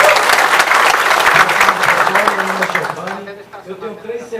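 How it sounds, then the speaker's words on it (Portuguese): A crowd at a business testimonial event in Salvador claps loudly and briefly, and the applause fades after about three seconds while a voice talks over it. "Salva de palmas para ele, pessoal."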